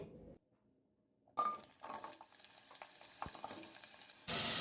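Carrot pieces dropped into hot oil in a saucepan for a carrot chicken curry: a brief quiet stretch, then a sudden close sizzle with clinks and stirring that swells louder near the end.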